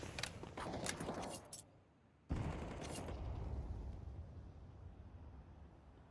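AK rifle fire in a video game rattles in rapid bursts, with a brief pause before a steady wash of continuous gunfire and background noise resumes.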